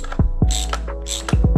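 A ratchet wrench working a spark plug out of a BMW N54 engine gives close, loud mechanical clicking, with quick pawl ticks in short bursts and a metallic ring between them.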